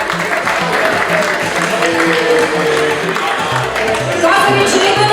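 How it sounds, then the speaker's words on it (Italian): Audience applause at a beauty pageant selection evening in Mestrino, Italy, steady, dense clapping over a thumping music beat, with some talk mixed in. "E facciamo un applauso a Roberto"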